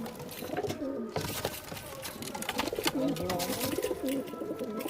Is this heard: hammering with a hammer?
no